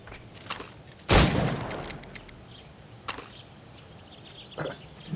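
Gunfire in Assassin's Creed Rogue, with one loud broadband burst near the start followed by a couple of fainter, sharper shots spaced a few seconds apart over low game ambience.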